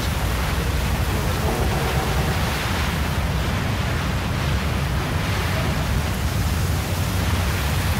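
A storm in the video game Spec Ops: The Line howls as a dense, constant roar of wind and blowing sand, loud and unbroken, with no speech.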